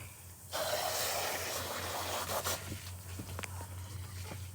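A hose sprays water over a processed chicken in a broad hissing rush that starts abruptly, holds for a few seconds, then thins out with a few small splashes.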